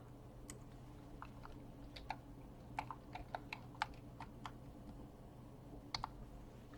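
Computer keyboard keys tapped in short irregular bursts with occasional mouse clicks while entering dates in Microsoft Project, faint and close over a steady low hum, with no talking.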